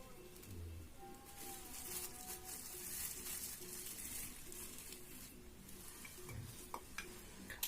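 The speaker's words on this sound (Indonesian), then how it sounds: "Lalu kita aduk." A spoon stirs flour into water, a steady soft swishing and scraping that runs continuously at close range with a couple of small knocks.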